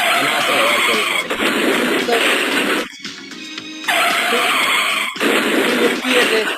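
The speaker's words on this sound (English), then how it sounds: "You hear the crash sound" Loud, continuous tire-skid screeches from a simple student-made Python car game play in long bursts broken by short gaps, up close with no voices over them.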